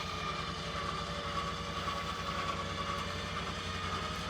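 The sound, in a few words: OpenRoad 4500 lb ATV/UTV winch with synthetic rope pulling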